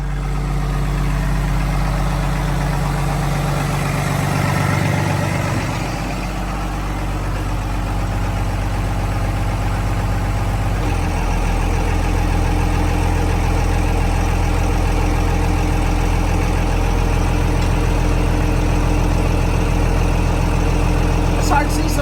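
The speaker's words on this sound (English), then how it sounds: "give me 10 seconds on the starboard engine" A boat's starboard engine running in gear to check a freshly done shaft seal, a loud steady low drone with deep rumble that shifts pitch briefly midway, close inside the hull, with voices faintly present.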